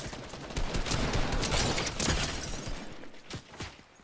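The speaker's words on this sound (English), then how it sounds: "I guess I'm getting shot at." Fortnite gunfire crackles in a continuous volley for several seconds, with rapid overlapping shots and a few sharper cracks near the end before it thins out.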